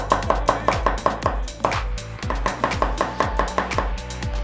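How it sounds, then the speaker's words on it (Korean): Rapid, steady knife taps on a cutting board as about three garlic cloves are thinly sliced, a crisp rhythmic chopping close by with a brief pause midway. "마늘은 한 3알 정도를 편으로 썰어서 넣어줄게요."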